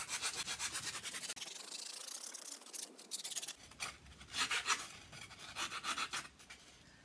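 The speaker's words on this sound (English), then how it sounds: "it's just a case then of going back to your file and kind of taking a bit more off." A file rasps against a styrofoam light surround in quick back-and-forth strokes, close and quiet, with short pauses between bursts of rough scratching and no voices.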